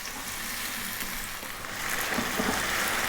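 Drained potatoes fry in a pan over above-medium heat, a continuous bright sizzle and crackle with a few soft bumps as they settle.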